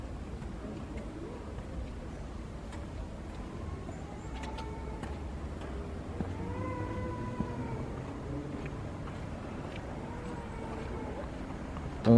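A cat outdoors in Lourdes meows repeatedly, several drawn-out, rising and falling cries spread across the stretch, set against a constant low rumble of background noise.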